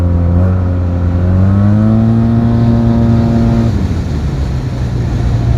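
A Yamaha TMAX 560 scooter with a Termignoni exhaust pulls hard, its drone rising smoothly in pitch for several seconds before the throttle drops and it settles to a lower hum, loud and close.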